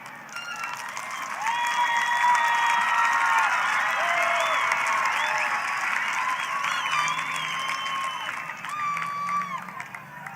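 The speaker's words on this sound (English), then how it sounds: "Please help me give a warm round of applause" A graduation crowd at a Mesa High School ceremony gives a sustained round of applause with some cheering, filling the large venue at an even, moderately loud level for about ten seconds.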